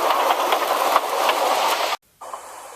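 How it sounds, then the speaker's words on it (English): A Bachmann model steam engine rushes past with a steady rolling rumble and faint clickety-clack, loud and close, cutting abruptly to near silence before a quieter rumble returns. "Whoosh, said Thomas to the coaches."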